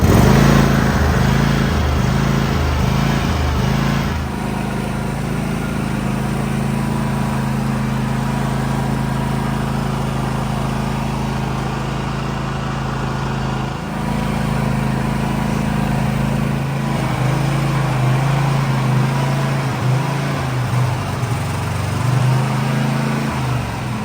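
A Craftsman GT 6000 lawn tractor engine cranks briefly with a pulsing starter, then catches and runs at a loud, steady, close drone with slight shifts in pitch.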